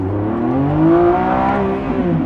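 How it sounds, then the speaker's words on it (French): A Lamborghini Revuelto 2025 supercar engine revs up in sport mode and holds a loud, throaty roar, pitch climbing and easing over a couple of seconds, close and with no talking. "Écoutez la sonorité de ce moteur-là, c'est carrément jouissif."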